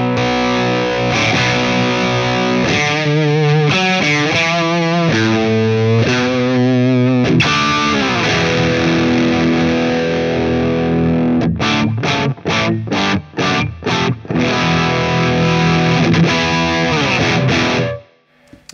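Electric guitar played through a Friedman BE-OD Deluxe overdrive pedal, loud and close, with crunchy distorted chords, a warbling modulated passage, then a rapid chopped rhythmic section before the sound cuts out.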